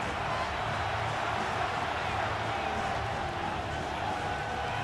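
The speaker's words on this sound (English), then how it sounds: "this crowd doing their best to make a lot of racket" Steady stadium crowd roar from a simulated Seahawks vs Titans NFL game in Madden 26, a dense, even wash of noise that holds throughout at moderate distance, with a commentator talking over it.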